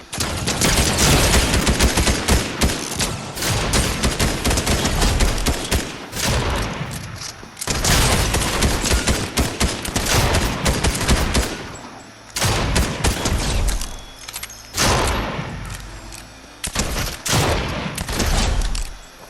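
Fortnite weapons firing in rapid, loud bursts of gunfire, dense volleys with a few short pauses between strings of shots.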